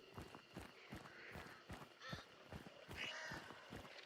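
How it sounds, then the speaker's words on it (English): Crows caw in a rapid series of repeated calls, fairly close and faint overall, with rhythmic rustling or footstep-like thuds between them. "Please, crows, be nice to me."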